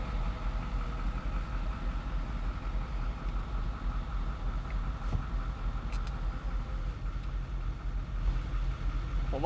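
A MegaRaptor 6x6 idles through its side exhaust pipes, a steady, even engine rumble held close and continuous with no talking over it.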